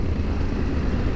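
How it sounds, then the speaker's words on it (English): A low, continuous rumble of an 800cc parallel twin motorcycle engine as the throttle rolls back on, with a dense exhaust note and no talking. "There is a bark from the exhaust"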